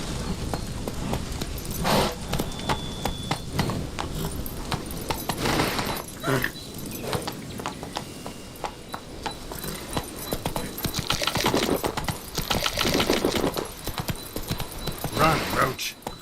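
Roach the horse gallops in The Witcher 3 with rapid, steady hoof clip-clops throughout, swelling louder at times, while a voice calls out over the hoofbeats.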